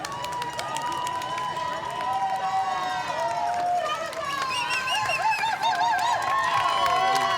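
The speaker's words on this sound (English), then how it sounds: "Terrific to hear the cheers and applause." A large crowd at a marathon cheers and applauds continuously, a dense wash of shouts, whistles and clapping that swells slightly in the second half.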